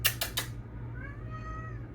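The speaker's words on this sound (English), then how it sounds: "there goes my cat, guys" A pet cat gives a faint, drawn-out meow indoors after a few sharp clicks, heard softly over a steady low hum.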